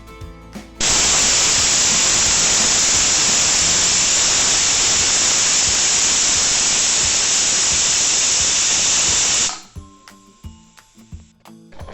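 Pressure cooker on a gas stove releasing steam in one long, loud, steady hiss that cuts off abruptly, followed by quieter clicks and small sounds.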